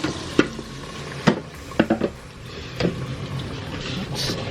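Shoestring potato fries in hot oil, a low steady sizzle with several distinct clacks and scrapes as more fries go in and get stirred, close and moderately loud, no talking.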